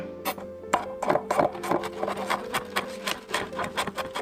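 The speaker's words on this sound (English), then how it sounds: "I have 2 garlic cloves, and then I'm just going to mince them up." Steady knife chopping on a cutting board as two garlic cloves are minced, a quick run of close, crisp taps and thuds in an irregular rhythm with no voices over it.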